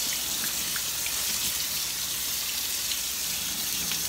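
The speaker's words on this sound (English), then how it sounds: "just to make sure that they're all rinsed off, to get as much of the gunk from the can" Tap water pours steadily over canned beans in a strainer, a constant hissing splash that stays close and even, with no talking.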